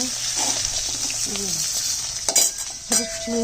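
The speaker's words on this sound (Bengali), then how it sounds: "মাছ ভাজা হচ্ছে" Fish frying in a pan gives a constant hissing sizzle, with a couple of clinks and scrapes of a utensil and faint voices in the background.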